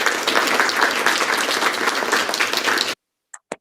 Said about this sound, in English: can we have a big round of applause for our speakers?